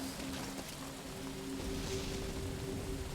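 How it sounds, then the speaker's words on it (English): Rain falls steadily in Metal Gear Solid V: Ground Zeroes, a dense, even hiss of downpour with a faint low tonal hum beneath, continuous and moderately loud throughout. "It's raining, you know."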